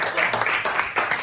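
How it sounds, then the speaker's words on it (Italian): Crowd applause at a YouTuber League football match, Roma against Napoli, a dense clatter of many hands clapping, loud and steady throughout a short burst. "Ragazzi, un applauso"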